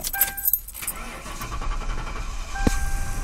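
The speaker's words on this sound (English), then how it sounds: "Its battery's dead, so he's jumping it with his battery pack." A car with a dead battery cranks and fires up on a jump-start battery pack, a sharp broadband burst near the end over steady engine-like rumble, with keys jangling faintly early on.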